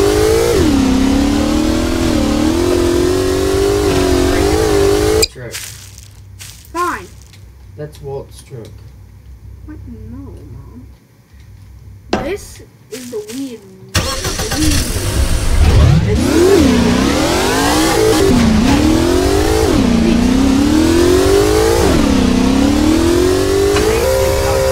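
Revving car engine in a Garry's Mod game session, loud and rising in pitch in repeated surges before and after a quieter gap, with someone talking over it.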